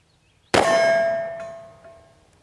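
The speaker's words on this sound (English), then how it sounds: "We're going to shoot the target on the right." A single sharp metallic clang as a shot from an 1890s Merwin Hulbert 4th model pocket pistol strikes a steel target, ringing out close and loud with a decaying tone and a faint second ping.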